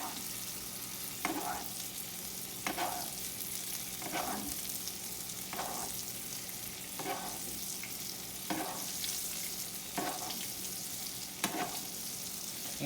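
Butter browning and sizzling steadily in a hot pan while steak is basted, with a rhythmic scrape-and-spoon pulse about every second and a half over the constant close fry.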